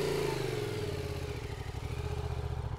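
A Yamaha MT-07 motorcycle engine revs briefly for a hill start, then settles into a steady, pulsing chug nearby as it pulls away slowly uphill.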